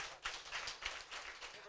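A congregation claps together in praise of God, a run of fairly quick, rhythmic hand claps that is moderately close but not loud, with faint voices underneath.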